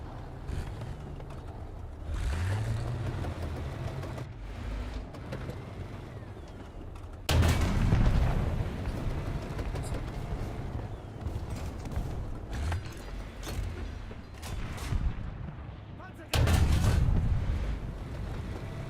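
Gunfire in a video game while an enemy flanks: sharp bursts at about 7.5 and 16.5 seconds stand out over a steady mechanical, creaking background rumble, with smaller pops scattered between.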